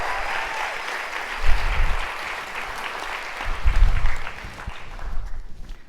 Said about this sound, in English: Thank you for applause, the applause in between.